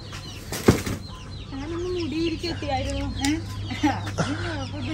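Chickens cluck in bursts on a Malayalam poultry farm, with a sharp close knock early on and a steady background hum underneath; no one speaks.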